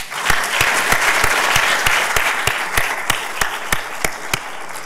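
Sustained audience applause for Jennifer at a university student project showcase, a broad wash of crowd clapping with one nearby person's loud, steady claps standing out in a regular beat.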